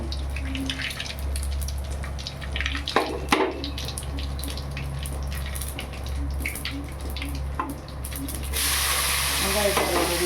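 Continuous sizzling of onions frying in a pan for pea rice, with bursts of stirring, a low steady hum underneath, and a brighter hiss rising toward the end.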